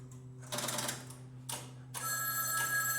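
A telephone bell rings in short bursts with gaps between them, the last burst louder and more sustained, heard indoors over a low steady hum.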